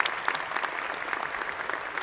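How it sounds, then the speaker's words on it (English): A commencement audience at a Virginia Tech spring university ceremony applauds the graduate students, a dense, steady wash of clapping from a large crowd that holds at even loudness throughout. "Please join me in a round of applause in recognition of our graduate students."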